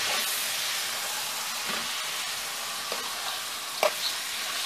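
Pork shoulder sears in a pot, giving a steady sizzle and hiss of frying meat. Faint stirring scrapes and one sharper clink cut through briefly, with no voices.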